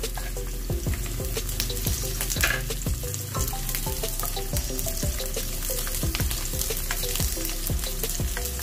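Onion and garlic sizzle as they sauté in a hot pan for a chopsuey, a steady loud frying hiss broken by regular clinks and scrapes of stirring, with no talking.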